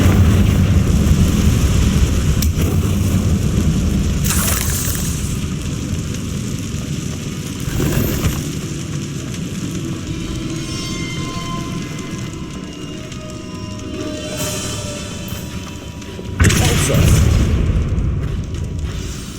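An explosive Confringo spell blast in Hogwarts Legacy, a loud sustained rumbling roar with sharp bursts of debris and crackle, repeated impacts rising over a dense game soundscape.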